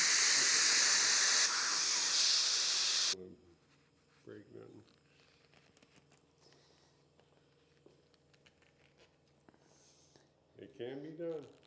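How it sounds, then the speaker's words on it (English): An air compressor nozzle blasts a loud, steady hiss of air to blow off motorcycle handlebar grips for about three seconds, then cuts out abruptly, leaving quiet with a few spoken words. "We're going to actually use a compressor, air compressor, to blow them off."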